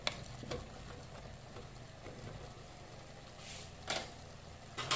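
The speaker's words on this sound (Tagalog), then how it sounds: "Haluin natin ng mabuti." Scraping and stirring of pork sinigang in a pot with occasional clinks of a utensil against metal, fairly quiet and close, no talking.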